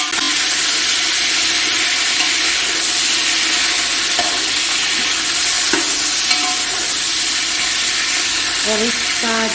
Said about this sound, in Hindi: अब इसमें डालूंगी गोश्त,